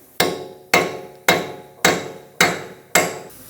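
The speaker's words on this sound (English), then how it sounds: "punch with a sledgehammer." A sledgehammer strikes a punch against a Ford Focus front axle during steering knuckle replacement, six loud metallic blows at an even, unhurried rhythm, each ringing briefly before the next swing.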